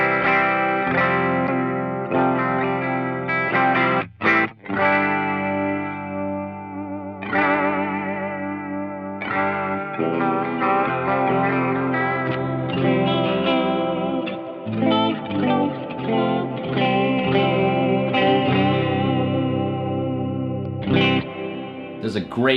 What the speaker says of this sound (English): There's a great chorus or vibrato sound.